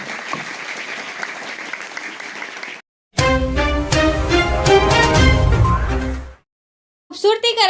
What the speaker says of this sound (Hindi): म्हणून सर्व शिक्षकासाठी आणि शाळेसाठी जोरदार टाळ्या